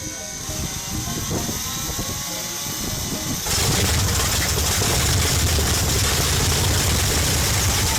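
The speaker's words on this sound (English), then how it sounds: "14 cylinders clatter as they force oil film through the system, then explode into an eardrum-tearing sound range" A big 14-cylinder engine on a test stand cranks with uneven clattering, then roars to life about halfway through and runs loudly and steadily to the end.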